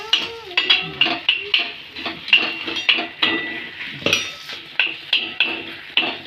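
A utensil scrapes and clinks against a pan as mashed eggplant bharit is stirred, a quick, regular series of metallic taps and scrapes heard up close, with no talking.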